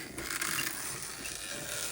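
A hand-cranked Platinum 6 die cutting machine winds a card sandwich through its rollers, giving a steady grinding, ratcheting mechanical whir that stays at an even level throughout, close and moderately loud, with no talking.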